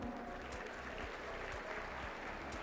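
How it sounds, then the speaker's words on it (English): Audience applause at a national conference of chartered accountancy students, steady dense clapping throughout, with a low hum running underneath. "please make them a huge round of applause."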